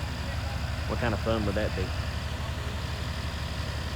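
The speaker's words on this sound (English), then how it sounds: "I think that thing's got a Cummins. I swear it's got a Cummins. It sounds just like a Cummins." A tracked truck's diesel engine runs at a steady idle at a land-clearing site, a constant low throbbing drone throughout, with someone briefly talking over it.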